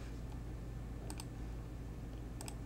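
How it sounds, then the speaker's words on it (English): A computer keyboard being typed on, two quick pairs of sharp clicks separated by a pause, faint and close against a low steady hum with no talking. "Hit tab and start typing composite."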